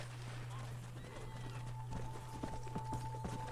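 Horses gallop in the Red Dead Redemption video game, with clip-clopping hooves and a whinny coming through fairly clearly. The hoofbeats grow into a rhythmic run over a steady low game hum.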